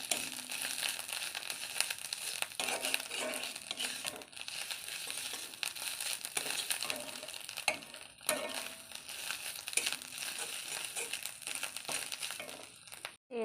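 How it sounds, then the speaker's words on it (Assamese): Garlic, ginger and onion being stirred and fried in a pan, a steady close crackling sizzle with scraping and stirring, and brief pauses where the spoon moves. "নহৰু, আদা এই দি লাৰি আছোঁ।"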